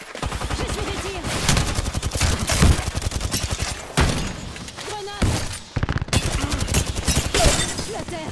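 Rapid automatic gunfire rattles through a match of the video game Apex Legends, loud and close in long bursts broken by short pauses, with a voice talking under parts of it.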